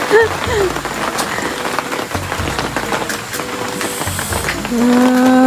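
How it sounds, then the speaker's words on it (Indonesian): Steady rain patters on a surface during a hike on Mount Slamet, a dense continuous drumming with scattered louder drops, while faint voices and other background noises come and go. "Hujan."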